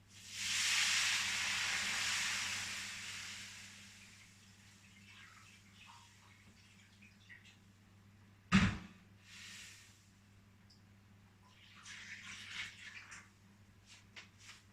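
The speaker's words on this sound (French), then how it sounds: "je vais verser de l'eau sur cette plaque très chaude" Water poured onto a very hot oven tray while baking crème caramel sets off a loud burst of steam hissing that slowly dies away, followed by a sharp knock and quieter handling noises.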